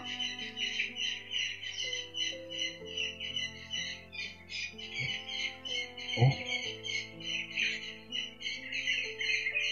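Dense, continuous squawking and chattering from many birds, fairly faint and distant, with a low hum underneath and a brief exclamation.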